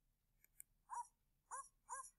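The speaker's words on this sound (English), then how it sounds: "I'm going to change it to dog barking." A short recorded dog bark played back through Scratch on a computer: a couple of faint clicks, then three quick, quiet barks in a row.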